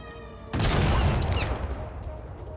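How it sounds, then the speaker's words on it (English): Tank main cannon blast in the World of Tanks video game, one sudden loud boom that cuts through a quiet engine hum and then rumbles and decays over two seconds. "Ja, firing my main cannon."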